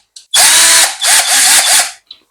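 A Beckum EB2 12V cordless drill whirs in several short bursts, spinning up and easing off with brief pauses between runs, close and loud with no voices.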